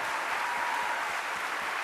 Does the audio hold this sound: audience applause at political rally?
yes